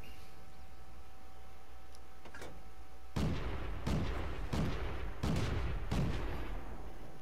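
SU-5 self-propelled artillery gun in World of Tanks fires a series of heavy booming shots, about five blasts roughly a second apart after a quieter lead-in, each with a deep rolling report.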